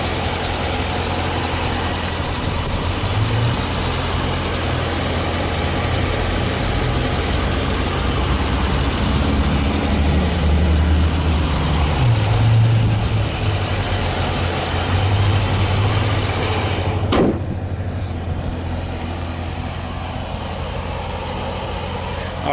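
A Dodge Challenger R/T Scat Pack's 6.4-liter 392 Hemi V8 idles with a deep, steady low rumble, small shifts in pitch drifting through, ending in a sharp click.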